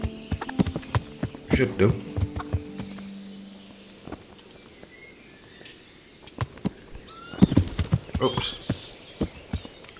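Horse hooves clip-clop in the medieval video game Kingdom Come: Deliverance, in uneven bursts with a brief whinny, separated by quieter stretches, while someone talks over the sound.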